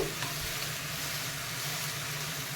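Apple halwa fries in ghee while being stirred, producing a dense, even sizzle with faint stirring scrapes that holds steady and close throughout.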